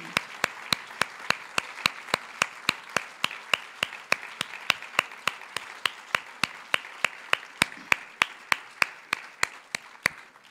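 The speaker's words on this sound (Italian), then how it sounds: "E analogo applauso chiedo per Paolo Giordano e Uri Kein." An audience claps steadily at a literary event in Milan with Abdulrazak Gurnah, Paolo Giordano and Uri Caine, with sharp, evenly spaced hand claps continuing for about ten seconds, close and clear with no speech over them.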